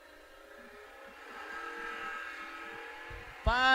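Drag racing with a Camaro and a Vega: an engine rumbles and swells from a distance, then a sudden loud close roar of acceleration bursts out at the end, while an announcer talks over it.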